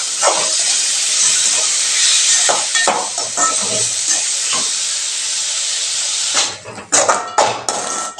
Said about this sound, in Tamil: இதையும் நல்லா கலந்து விட்டுறலாங்க